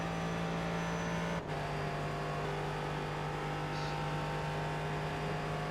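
Race cars in the iRacing sim, a Corvette among McLarens, make a steady droning engine hum held at constant pitch with no clear passes or revving, continuous and moderately loud throughout.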